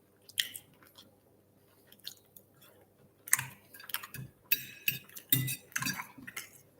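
Crunchy, thoroughly cooked food chewed during a fasting-break meal, heard as irregular close crunching and mouth sounds with occasional cutlery clicks. The bites get denser and louder in the second half, and no one speaks.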